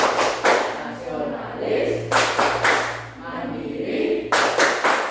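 A fifth-grade elementary classroom in Indonesia performs the Tepuk PPK clapping chant, with bursts of many hands clapping in rhythmic patterns alternating with children's voices chanting together loudly and close by.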